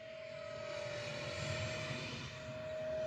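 An E-flite Airbus A320neo model jet with twin 64mm electric ducted fans at half throttle makes a high-speed pass, giving a steady, loud whine with a sustained tone that holds close throughout.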